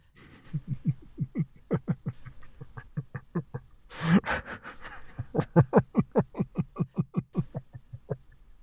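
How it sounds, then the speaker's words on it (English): Heavy rhythmic breathing of a caller on a late-night radio phone line, a quick run of loud panting breaths with a brief sharper gasp midway. "How about you tell me a little about what's got you breathing so heavy?"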